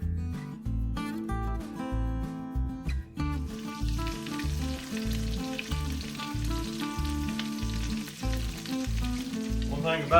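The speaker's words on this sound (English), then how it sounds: "And they'll start frying immediately." Steady, loud sizzling of patties frying in a hot pan, continuous crackle throughout with no talking.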